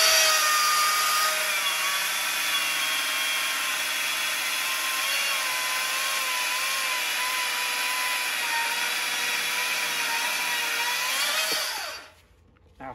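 STIHL MSA 220 battery chainsaw powered by an AR 2000 backpack battery, cutting through fresh ash hardwood: a steady high-pitched motor whine with a loaded chain rasp, held for about eleven seconds before it abruptly stops.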